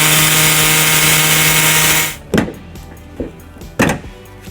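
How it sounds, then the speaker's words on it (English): An air saw cuts through the plastic rear bumper fascia of a 2015 Jeep Compass, a loud steady buzzing whine for about two seconds, then it stops and a few sharp knocks and clatters of plastic and tools follow. "We're gonna make our cut, and we're gonna use an air saw."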